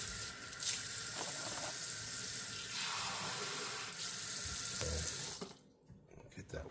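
Tap water runs steadily into a container for waffle batter, a loud continuous splashing gush that cuts off near the end, leaving soft kitchen sounds.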